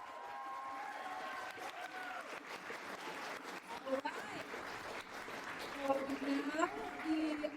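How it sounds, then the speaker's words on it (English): An audience at a live panel event about student reporters covering NYC schools claps in sustained applause, with voices talking over it. "Can we please get a round of applause?"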